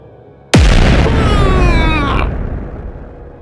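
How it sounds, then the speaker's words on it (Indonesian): A huge explosion as energy beams fired downward from giant glowing orbs slam into the ground and blast a kilometre-wide crater: one sudden, loud booming burst followed by a long, rumbling, crackling decay that fades over about three seconds. "Tanah meledak, menciptakan kawah selebar 1 km."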